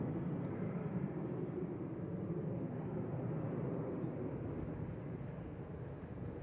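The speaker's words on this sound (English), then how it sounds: "EIEKT, flight 5476, 737-800." Boeing 737-800 at Manchester Airport, a steady broadband engine roar holding level throughout, moderately near, with wind buffeting the microphone and no talk.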